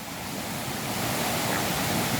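Waterfall at Quebrada La Victoria, a steady broadband rush of falling water heard up close, loud and continuous with no voices.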